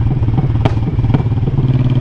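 A motorcycle engine brakes through a sweeping curve on a road, giving a loud, close, burbling rhythmic pulse with crackling pops and a couple of sharp thuds.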